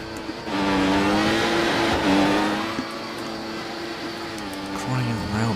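Simulated race car in a racing game at the German GP, its engine revving hard with strained, wavering tone as the wheels spin, loud and close, with a brief squeal near the end.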